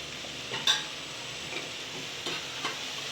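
Cabbage-potato curry with peanuts stirred in a pan on a gas stove, a low constant sizzle with a few soft scrapes and taps of the spatula, close but fairly quiet.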